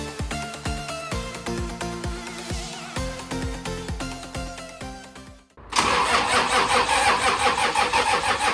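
A car engine is cranked by its starter in a rhythmic chugging pattern for several seconds, then catches and fires into a loud, steady running roar close by.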